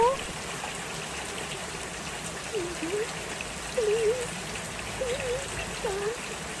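Steady rain hisses throughout a night scene in a Sakura School Simulator drama, with faint tonal voice-like sounds rising now and then above the continuous downpour.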